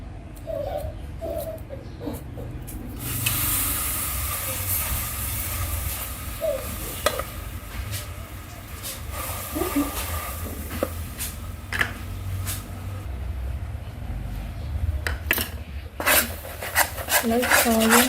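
Palm sugar heats in a hot pot on the stove as a base for braised pork legs, with steady scraping and stirring, a low sizzle and occasional sharp clinks of a utensil against the pot.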